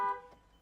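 A Tata Safari horn giving a single short chirp as the car is locked, a brief tonal beep that fades quickly, fairly close and alone.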